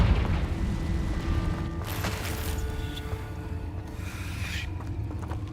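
Confringo fire spell in the video game Hogwarts Legacy, a loud rumbling blast with fiery roar and crackle, two sharp bursts rising over a dense, continuous background of game noise.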